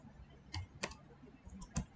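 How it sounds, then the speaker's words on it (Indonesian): Typing on a computer keyboard while working in QBasic: a few soft, scattered key clicks in a quiet room, faint and close. "Oke, kita ketik ke sini."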